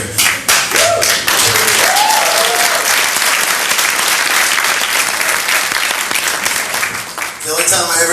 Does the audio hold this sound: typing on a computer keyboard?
no